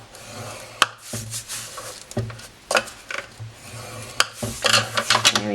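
Old Olive cardstock, a 5 1/4 inch square, scored at 1 inch on all four sides, giving repeated short rasping scrapes and sharp taps close by, with no talk over them.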